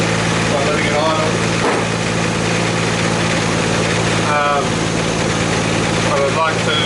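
A Nissan R32 Skyline GTS-T engine idles steadily while warming up, a constant low drone close by, with someone talking over it in a couple of brief stretches.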